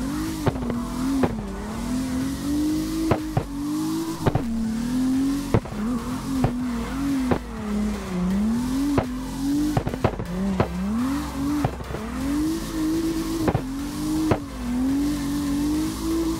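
A car in the CarX racing game, fitted with its original engine, revs and shifts repeatedly while its tires squeal through drifts, a loud rising-and-falling engine drone punctuated by sharp gear or impact clicks, with no talk.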